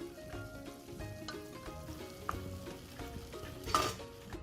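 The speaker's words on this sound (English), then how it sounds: "Now mix all the spices well in the mince." Spices being stirred into minced meat in a pan for a potato lasagna, a soft scraping stir over a low frying sizzle with a brief louder clatter near the end.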